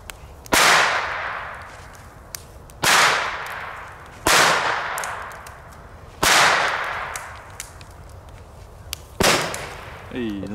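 Old firecrackers bang one after another, five sharp loud cracks spaced a couple of seconds apart, each trailing a brief crackling hiss outdoors, with faint talking in between.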